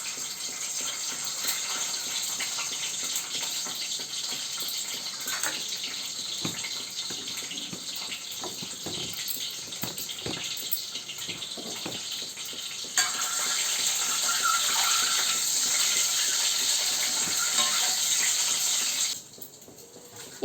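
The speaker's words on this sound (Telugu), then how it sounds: "మనం ఎగ్స్కి గంట్లు పెట్టుకున్న తర్వాత ఆయిల్లో వేసుకుని" Whole eggs with slits cut into them fry in hot oil in a pan, giving a steady close sizzle and crackle that grows louder partway through and then drops off near the end, with no talking.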